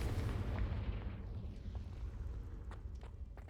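A Confringo blasting spell explodes in the Hogwarts Legacy video game: a heavy, booming low rumble that rolls out loud and slowly fades over a few seconds, with a few faint crackles in the tail.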